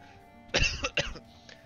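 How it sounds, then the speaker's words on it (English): A man recovering from an illness gives a short fit of coughing, two or three quick harsh bursts close to the microphone, then a faint trailing rasp, with no talk. "Doctor said I'm gonna have this cough for a while."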